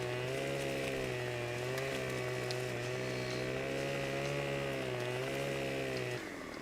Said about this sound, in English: you're going to walk along the log and turn your chainsaw on